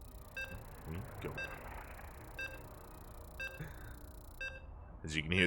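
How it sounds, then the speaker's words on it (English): A StarCraft 2 tournament match sounds its countdown: a run of evenly spaced short electronic beeps, about one a second, under a caster's talk and low arena background noise. "As you can hear the beeps"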